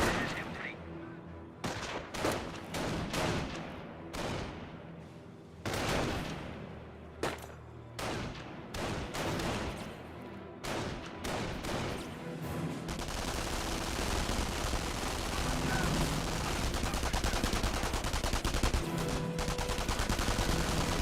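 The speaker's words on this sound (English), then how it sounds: "Taking rifle fire!" Rifle and machine gun fire crack in Company of Heroes, with sharp separate shots and bursts over the first half, then a dense continuous rattle of gunfire building to the end.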